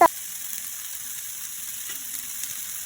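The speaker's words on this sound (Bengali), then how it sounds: "এরপর মশলাটা ভালো করে আমি কষিয়ে নেব।" Spice masala sautéing in a pan with a splash of water for a garlic fish gravy, a soft, low hiss and gentle sizzle after a brief knock at the start, faint and steady with no talk.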